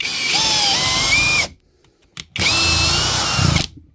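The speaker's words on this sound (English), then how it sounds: "I got a battery in the drill. But just listen to it and watch it." A CAT cordless drill spins up in two bursts of steady high whine, each rising in pitch as the motor speeds up, with a short pause between; loud and close with no talk.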